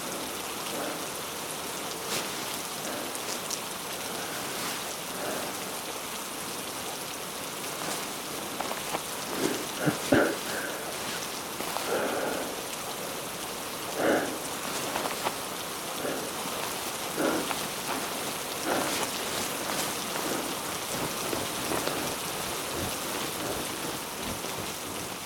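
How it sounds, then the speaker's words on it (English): Steady rain pours down, with scattered heavier drops spattering on a surface throughout and no voices. "I simply added the obvious sounds you should hear, like the rain in this shot"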